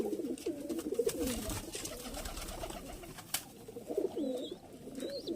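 Giribaj and chhapka pigeons coo softly and repeatedly in low, throaty phrases, with faint rustling and a few distant chirps in the background.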